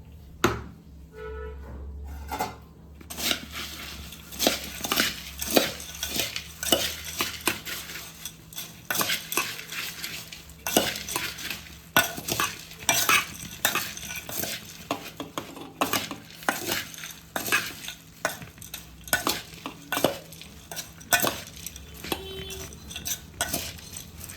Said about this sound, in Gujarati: મીઠું નાખી દીધું છે, આમ હલાવી નાખીશું